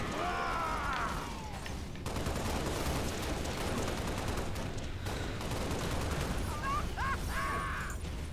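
Dense, continuous in-game gunfire from Halo: The Master Chief Collection fills the whole stretch, sustained bursts and rattling shots at steady loudness with no pauses, mixed with other game effects.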